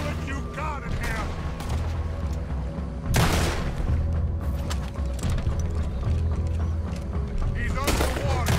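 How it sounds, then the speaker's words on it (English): Gunfire in Red Dead Redemption 2 during a fight with a creature in water, several loud sharp shots spaced through the passage over steady game ambience and rumble, with people talking now and then. "Put every bullet you got in here."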